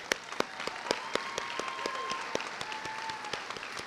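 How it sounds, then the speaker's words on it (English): Steady applause from a university commencement crowd with a few sharp, distinct claps standing out, moderately loud and continuous. "I want you to join me in one more round of applause to thank Dr. Stewart for her years, decades"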